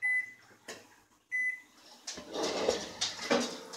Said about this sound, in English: when the microwave goes off